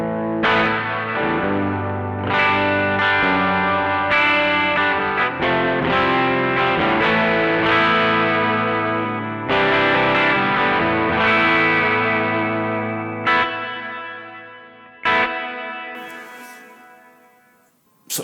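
An instrument runs through a TC Electronic Arena reverb pedal on its Royal setting, a church-like reverb giving sustained played notes and chords long washy tails, fading toward the end with a few last isolated hits.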